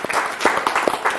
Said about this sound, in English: I think you guys deserve another round of applause.